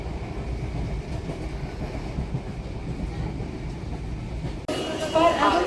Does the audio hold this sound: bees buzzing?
no